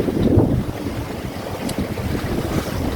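Sailboat under way leaving Ship Cove in Queen Charlotte Sound in a northerly wind of about 12 knots, heard as steady wind rush and hull water noise with gusty buffeting on the microphone.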